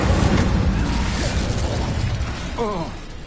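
Incendio fire spell cast in Hogwarts Legacy, a whooshing burst of flame with crackling, mechanical combat noise, fading in the last moments.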